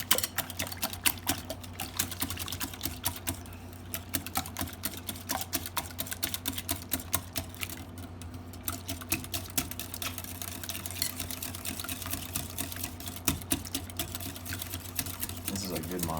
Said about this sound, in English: Your video should just be 15 minutes of beating eggs.